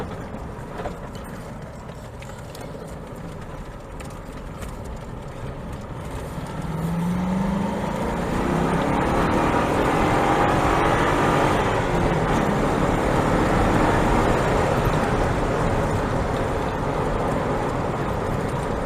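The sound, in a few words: Morgan Aero 8 sports car driving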